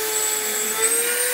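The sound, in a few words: Dremel rotary tool running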